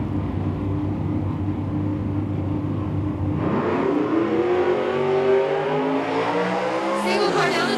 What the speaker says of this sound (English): Ryan Smith in the 69 Cougar, going 972 with a 3